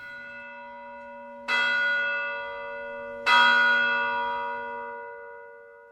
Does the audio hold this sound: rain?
no